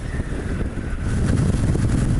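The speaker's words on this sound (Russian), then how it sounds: "холодно, ветрено." Cold, gusty wind buffets the microphone outdoors in a small French town on a chilly, rainy day, a steady low roar that swells louder in the second half, with no voices.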